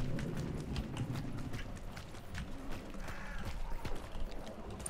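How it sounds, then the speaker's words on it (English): Horse hooves clip-clop in the game Hunt: Showdown, a rapid uneven patter over low rumbling game ambience and faint mechanical clicks, moderately close and steady across the stretch. "Oh, that's the horse I heard."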